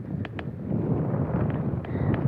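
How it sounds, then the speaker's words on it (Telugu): Strong, cool wind blows steadily across the microphone in an open roadside setting near Guntur-area villages, a low buffeting roar with a few brief higher-pitched knocks and whistles. "చల్లగా గాలి వస్తుంది, మొత్తానికి ఘోరంగా వస్తుంది"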